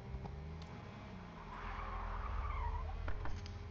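A fast car skids in a role-play video game, with a steady engine drone and a rising tire squeal through the middle, close and fairly loud, without talk.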